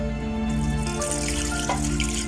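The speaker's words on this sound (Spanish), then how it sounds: "le voy a echar un poquito más de agua para que me quede caldosito" Water from a tap runs steadily into a pot of mole de olla broth, Veracruz style, a continuous close splashing pour with no talk over it.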